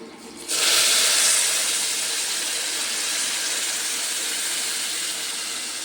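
Hot water poured into roasted broken wheat for Gujarati lapsi bursts into a loud, sudden hiss of steam that stays strong and slowly eases over several seconds.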